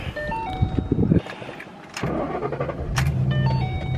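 A 2013 Mustang GT on its stock exhaust idles nearby at first, then goes briefly quiet before the engine cranks and settles back into a low, even idle.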